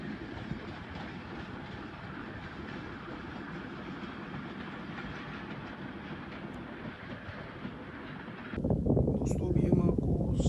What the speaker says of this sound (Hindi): ये था जी 130 डाउन थल एक्सप्रेस